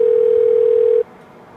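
A steady telephone dial tone hums loudly and evenly for about a second while a call is placed, then cuts off abruptly, leaving quiet line hiss.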